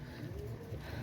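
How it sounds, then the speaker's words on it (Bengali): Pigeons of a show-quality Pakistani breed, a pair kept for sale, coo in low soft pulses against steady background noise, with no voices. "এই আরেক জোড়া সাকিরেডি কবুতর মাশাল্লাহ"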